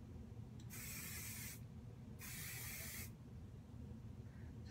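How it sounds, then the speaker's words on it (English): Hairspray is sprayed onto the ends of hair in two separate bursts, each a sharp hissing spray just under a second long with a short pause between, close and clear over a low background hum. "I guess I'll spray the ends a little bit first."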